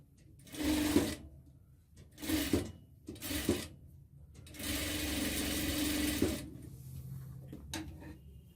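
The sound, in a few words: sewing machine stitching pants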